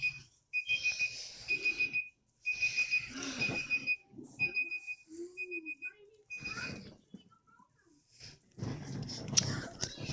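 A kitchen timer alarm rings in repeated bursts of shrill beeping, with several pauses between bursts and people talking over and around it.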